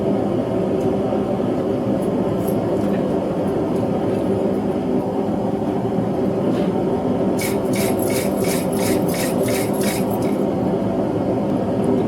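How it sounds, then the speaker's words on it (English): A wire brush scrubs a hot hand-forged steel leaf keychain in steady, continuous rasping strokes, loud and close, with a few sharper metallic clinks near the end and no talking. "I'm going to wire brush it and let it cool off and beeswax it."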